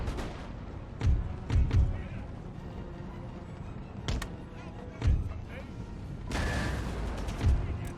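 Cannon fire in a Prussian campaign battle of the strategy game Empire: Total War: several heavy booms and thuds land at irregular intervals over a low battlefield rumble, some doubled, with a longer rolling burst near the end.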